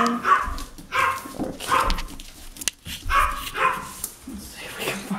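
Parti Yorkie puppies at play bark and yip in short, sharp, high bursts, close by and uneven, with a whimper or two and a person speaking briefly between the yaps.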